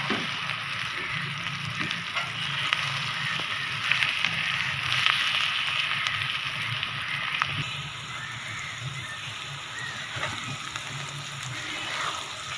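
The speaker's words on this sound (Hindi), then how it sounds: "प्याज को अच्छे तरीके से आपने ब्राउन करना है, जलना नहीं चाहिए" Onions fry in a pan, browning during Mughlai chicken preparation, with a continuous moderate sizzle and hiss that carries through, plus occasional faint clinks and a slight drop in intensity partway through.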